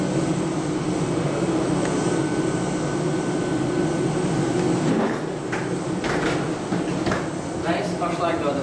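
Airplane engines at a wintry airport in Latvia give off a steady, loud, broadband roar throughout, joined near the end by a few knocks and clatters.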